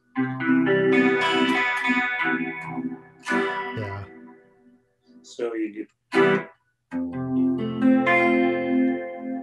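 Electric guitar chords shimmering with a wavering chorus effect, played in bursts with pauses between, someone briefly speaking over it.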